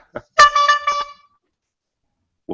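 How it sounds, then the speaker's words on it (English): A bike horn gives a single loud, brassy honk lasting under a second, with short faint bumps just before and after in an otherwise quiet room. "That was me honking a horn to mark the epiphany"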